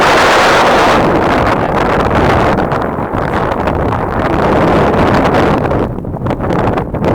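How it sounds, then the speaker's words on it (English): Strong wind roars and buffets the microphone continuously, a loud broadband rush that swells and dips slightly throughout. "It's getting quite windy."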